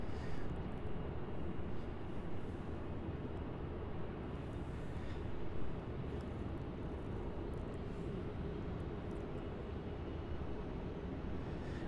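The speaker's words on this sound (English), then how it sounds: "So now on final approach onto runway 34, we have the Jetstar A320 JQ704." A Jetstar A320 airliner on final approach to runway 34 at Melbourne Airport gives a steady, broad distant roar that holds at a fairly even level throughout, with no talk over it.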